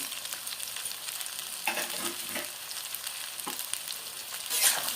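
Cauliflower, carrot and beans fry together in a pan, a close, moderate sizzle broken by a few soft stirring scrapes and clatters.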